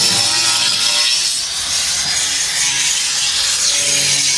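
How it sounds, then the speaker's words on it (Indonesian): A fiberglass and resin speaker box gets its first polishing pass: a continuous, harsh, close abrasive rubbing and grinding hiss that runs steadily throughout without pause. "Jadi ini masih dalam proses pemolesan pertama, nanti diperhalus lagi dan dikasih resin lagi untuk yang terakhir biar mengkilat"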